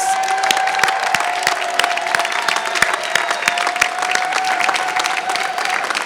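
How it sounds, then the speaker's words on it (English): Sustained audience applause at a university commencement ceremony, dense and steady clapping from a large crowd with occasional cheers throughout. "Let's give them one big round of applause."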